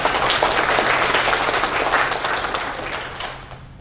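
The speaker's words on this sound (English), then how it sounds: "Give yourselves a round of applause for that." A large audience at a Texas Boys State gathering breaks into sustained applause, a dense wash of many hands clapping loudly that carries on and slowly tapers off toward the end.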